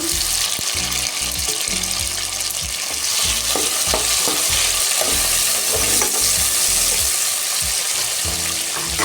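Brinjal poriyal fries in a pan as a tomato is added, giving a loud continuous sizzle with a low rumbling undertone and repeated scraping stirs, no talking.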